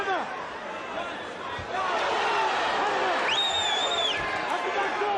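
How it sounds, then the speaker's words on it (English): A frenzied arena crowd roars and cheers at a UFC 3 bout in Charlotte, loud and continuous, swelling louder partway through as a commentator talks over it. "this crowd here in Charlotte is simply frenzied"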